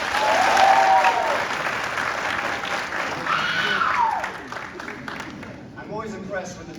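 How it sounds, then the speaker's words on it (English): An audience of soldiers and families gives sustained applause at a military Basic Leader Course graduation ceremony. The clapping is loud and dense at first, then gradually fades, with voices mixed in. "Now, graduates, please give a round of applause to your families and chains of command"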